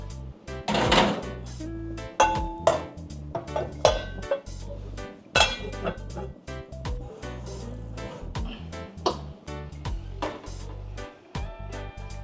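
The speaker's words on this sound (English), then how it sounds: "We're gonna cover this pot here and then put it in the oven." A cooking pot of chicken, rice and tomato gets its lid and goes into the oven, heard as a run of close metallic clanks, knocks and thuds with short pauses between them.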